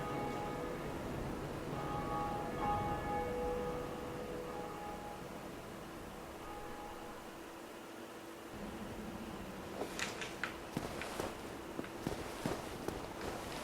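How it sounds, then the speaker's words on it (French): The first bell being rung in the video game Dark Souls: a faint, sustained metallic ringing that slowly fades, followed later by a run of soft, quick footsteps. "on active la première cloche"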